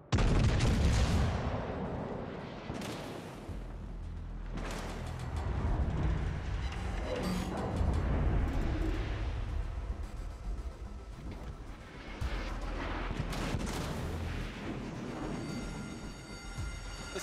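Heavy naval guns in World of Warships Legends: deep, loud booming salvos over a constant rumbling battle bed, with repeated big blasts near the start and more midway through.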